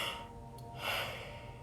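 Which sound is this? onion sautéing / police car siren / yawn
yawn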